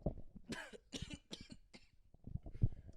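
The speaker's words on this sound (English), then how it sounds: "He says as he coughs up my offering." Several rough, close coughs in a quick cluster, followed by quieter throaty hacking and clearing sounds.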